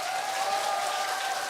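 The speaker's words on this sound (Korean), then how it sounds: "우리 목사님 사모님 힘내라고 박수 한번 쳐줘" A church congregation applauds steadily, a dense continuous wash of clapping held at an even level throughout, with no voices over it.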